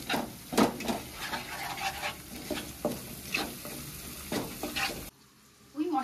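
Ground spices with salt, turmeric, Kashmiri and red chili powder and a little sugar being stir-fried in a pan, close scraping stirs over a soft sizzle, then a brief quiet pause before the stirring resumes.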